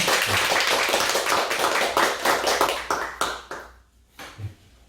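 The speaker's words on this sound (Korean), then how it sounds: "우리 박수로 축하드리겠습니다." A small church congregation claps for members' birthdays during an online worship service, a quick run of sharp hand claps that thins into scattered separate claps and fades to near silence before a final few.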